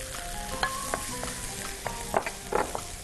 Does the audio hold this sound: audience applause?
no